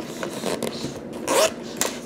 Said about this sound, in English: So the zipper.